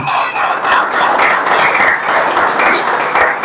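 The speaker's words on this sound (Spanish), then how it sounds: "Den un aplauso a Dios si usted está creyendo algo, por lo menos." A church congregation applauding to God after a sermon prompt, dense continuous clapping from a crowd filling the room at steady volume, with faint voices mixed in.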